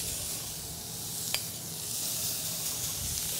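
Pork and grape kebabs sizzle over medium-high heat on a grill, a steady close hiss with a single faint tick partway through.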